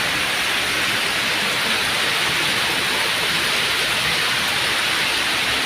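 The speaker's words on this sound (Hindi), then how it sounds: "मस्त वाली बारिश हो रही है" Heavy rain pours down in a dense, steady hiss, loud and unbroken throughout with no voices.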